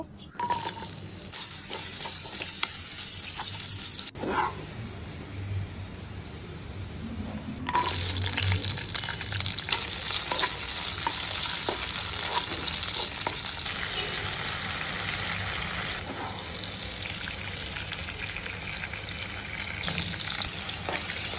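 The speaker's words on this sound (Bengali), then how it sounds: "একে একে আমি বাকি সবজিগুলো এভাবে ভেজে নিব" Vegetables for a Chinese dish sizzle and crackle as they are lightly fried one by one in a hot pan, a continuous frying hiss with occasional stirring scrapes and no talking.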